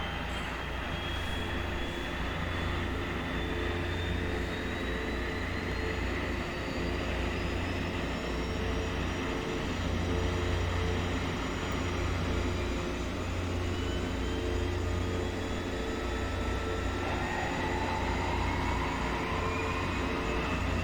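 Turboprop engines of a DHC-6 Twin Otter in the X-Plane 11 flight simulator run steadily after start, a loud continuous drone with a deep low rumble and rising whine tones throughout, no talk.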